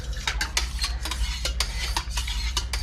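Yarn dye being stirred in a kettle pot, with a spoon clinking and scraping against the metal in a quick, uneven rhythm over a low steady hum.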